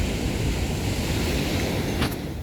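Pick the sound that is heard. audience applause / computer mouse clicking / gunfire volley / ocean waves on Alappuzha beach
ocean waves on Alappuzha beach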